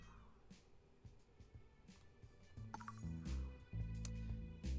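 A cat in a hidden-object video game set in London gives a faint meow against quiet game music, which builds into louder low musical notes toward the end.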